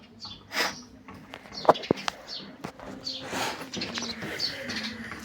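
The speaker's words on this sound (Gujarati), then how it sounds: "આ છે કબૂતર." Pigeons coo softly at a nest holding eggs, with low murmuring calls, a few brief flutters and faint background voices nearby.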